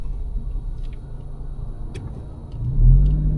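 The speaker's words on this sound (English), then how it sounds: "I'm in first gear, finding the bite point and slowly lifting off the clutch" A manual car creeps forward in first gear through traffic, a steady low engine rumble that swells into a brief rise in revs near the end, heard alone without voices.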